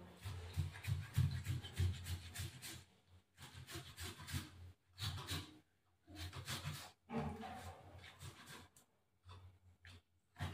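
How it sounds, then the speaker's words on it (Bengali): A tomato is rubbed against a grater in a kitchen, giving repeated rough scraping strokes in uneven bursts with brief pauses, close and moderately loud with no talk. "এই কষুনিটা দিয়ে টমেটোকে ঘষে নেবো"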